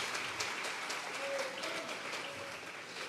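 Congregation clapping as an offering of applause to God during a Sunday church service, a sustained wash of many hands clapping at moderate volume, steady from start to finish.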